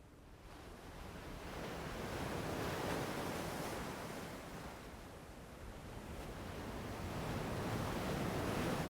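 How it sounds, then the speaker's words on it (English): Ocean waves swell and recede in a soft, continuous wash of surf, rising gradually and fading slightly before building again, with no speech over it. "Just leaving us with the sound of the waves."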